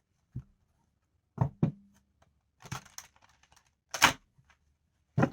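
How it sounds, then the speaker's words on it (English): Tarot cards are shuffled in several short, sharp bursts of riffling and slapping, separated by pauses, close and fairly quiet with no speech. "I apologize if the shuffling is loud."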